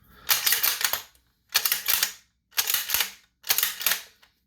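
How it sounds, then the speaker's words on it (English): Four rapid bursts of semi-automatic gunfire from an AR-15 rifle, each a quick cluster of sharp cracks separated by short silent gaps, close and loud. "That's how fast, aside from squeezing the trigger, that you can run this gun"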